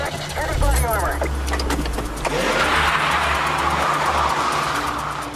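A car powering forward in a Hollywood shootout scene, a loud engine roar rising and surging with tire noise, while people talk over it and sharp bursts cut through near the start.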